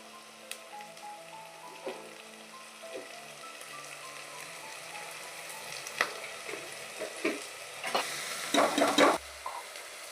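Onions frying in a pan with a little salt, a soft steady sizzle under scattered stirring clinks and scrapes that grow busier and louder toward the end.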